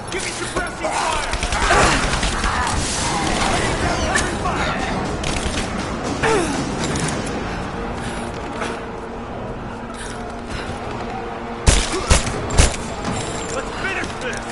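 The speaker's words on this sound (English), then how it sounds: "Give me suppressing fire!" Gunfire and combat in Rise of the Tomb Raider: a dense, continuous wash of game battle noise with bursts of shots, a few sharper cracks standing out near the end, under shouted voices.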